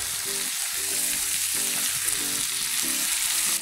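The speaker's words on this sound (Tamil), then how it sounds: "தென் அடுத்ததாக தக்காளி, இதை நம்ம நல்லா வதக்கலாம்." Tomatoes sauté in a hot pan for a prawn sambar, giving a steady, close sizzle with soft stirring scrapes running throughout.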